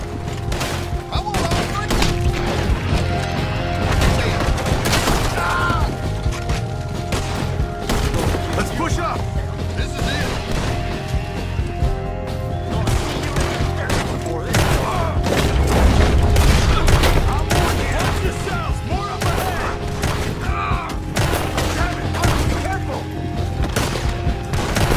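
Dense game combat in Red Dead Redemption 2 with repeated booming shotgun blasts amid steady gunfire and a loud mix, continuous for the whole stretch, with a voice now and then beneath.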